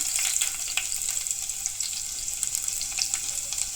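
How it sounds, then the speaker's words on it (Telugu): Mustard seeds, cumin and garlic tempering in hot oil for a moringa dal fry, giving a steady close sizzle with scattered pops and crackles throughout, no voices. "ఆయిల్ వేడెక్కిన తర్వాత తాలింపు వేసుకోవాలి"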